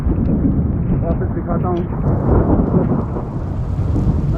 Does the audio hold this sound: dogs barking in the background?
no